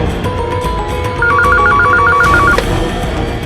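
A telephone rings with a loud, trilling electronic bell in a quick repeated pattern for about a second and a half, heard alone over a low background hum.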